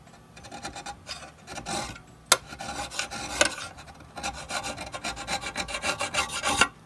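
180 grit sandpaper rubs over stainless steel marked by a laser engraver, making close, uneven rasping strokes in bursts with a few sharper scrapes.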